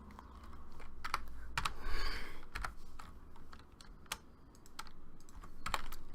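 Rapid clicking of a computer keyboard, close and fairly quiet, with bursts of keystrokes and short pauses, no talking over it.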